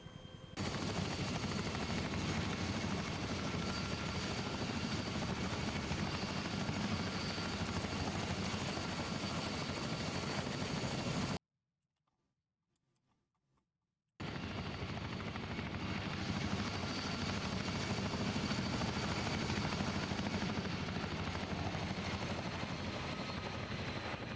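Military helicopter in flight during air assault training, a loud, steady rotor and engine roar heard from close by that fills the clip. The roar cuts out to near silence for about three seconds, then resumes just as loud.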